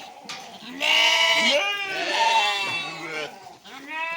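Several goats bleat loudly and close by on a farm, overlapping wavering cries that continue through the clip with little pause.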